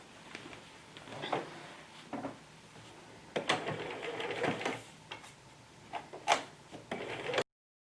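A sewing machine runs a lengthened straight stitch on skirt pieces in uneven bursts of rapid mechanical chatter, close and fairly quiet, with pauses and light handling noise between runs before it stops abruptly.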